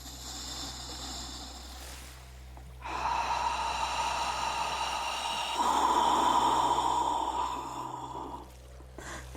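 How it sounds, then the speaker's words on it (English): A long, deep breath is drawn in slowly and audibly during a guided meditation, rising into a breathy rush that lasts several seconds before fading out, with a low hum underneath. "breathing it in."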